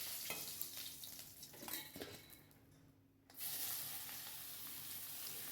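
Sliced radish with slit green chilies goes into hot oil with mustard seeds for a vegetarian radish dish. A few spoon scrapes come first, then a loud, steady sizzle bursts in about three seconds later and carries on close by, with no talking.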